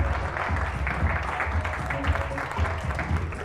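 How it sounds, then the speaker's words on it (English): Applause from a business conference audience after a keynote, a continuous patter of many hands clapping at steady volume, with some voices mixed in beneath it. "Give her another big round of applause"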